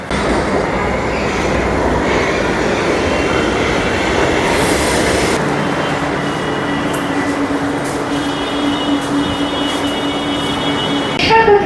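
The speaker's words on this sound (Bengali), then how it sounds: "কলকাতা মেট্রো।" A Kolkata Metro train runs underground with a loud, steady rumble and rattle of wheels on rails, then a squeal and a high tone as it keeps moving.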